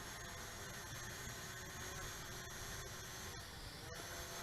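An SJRC Z5 GPS 2.4G WiFi foldable RC camera drone descending to land, heard as a steady, fairly faint broadband whir of propellers and motors that holds constant throughout.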